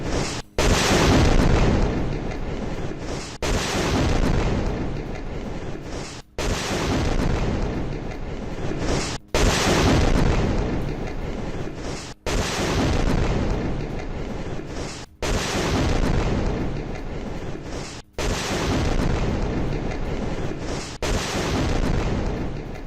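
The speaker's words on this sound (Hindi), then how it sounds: "सेंट्रल गाजा में इजराइल का ड्रोन अटैक शॉट्स के साथ।" Repeated heavy booms from an Israeli drone strike on a Hamas command base in a residential area of Deir al-Balah, central Gaza, each loud blast followed by rumble, recurring roughly every three seconds with brief silent gaps between.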